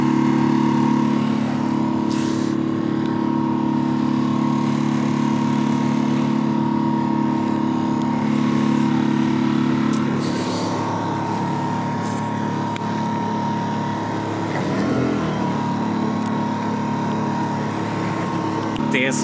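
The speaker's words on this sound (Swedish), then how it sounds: "Det är så segt att köra motor." A sailboat's inboard engine drones steadily while motoring under autopilot on a solo sail, a loud constant hum with a faint change in tone near the end.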